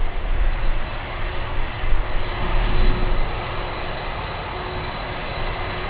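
Atlas Boeing 747 freighter with CF6-80 engines idling, a steady jet roar with a thin high whistle running over it, loud and continuous with gusty wind rumbling underneath.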